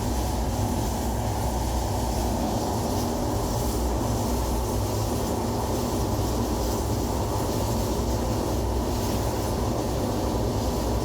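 The Madhumati Express, an intercity train running from Faridpur to Dhaka at speeds of up to 99 km/h, makes a loud, steady rumble of wheels on rails. The roar fills the whole stretch and is heard up close from on board.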